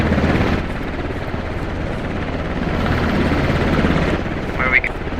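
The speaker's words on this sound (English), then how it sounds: "No, don't get in the helicopter." A helicopter in a video game holds a steady, loud rotor drone throughout, with players talking over it.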